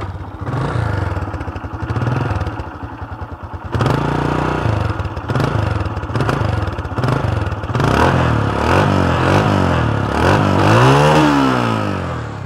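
A fully restored Suzuki Fiero 150 motorcycle engine running close by, a steady thumping idle that rises into throttle blips and revs in the second half, with no talk over it.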